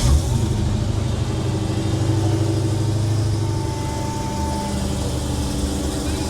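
Stock Dodge Hellcat V8 idling and revving at a classic car and hot rod show in California, a steady loud engine rumble throughout with slight swells in pitch, no talk over it.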